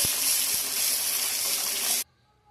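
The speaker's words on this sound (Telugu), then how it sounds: "ఇప్పుడు ముందుగా తయారు చేసి పెట్టుకున్న సాంబార్ని ఈ పోపులో వేసుకోవాలి." Prepared sambar pours into a hot tempering pan as a steady, close gushing rush for about two seconds, then stops suddenly, leaving near silence.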